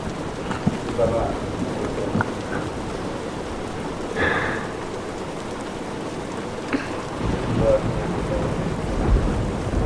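Steady video game rain hisses throughout with a low rumble of thunder swelling in the middle, and a voice murmurs faintly underneath.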